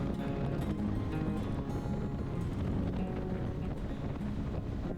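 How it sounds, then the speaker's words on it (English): Steady, loud wind buffeting outdoors on a high hillside in Wales, a constant low roar with gusty rumble and no pauses or voices. "It's quite windy up here."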